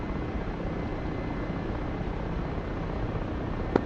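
An Mi-8 helicopter in the DCS World flight simulator, its rotor and turbine making a steady loud droning whir from start to end, with a brief faint blip near the close.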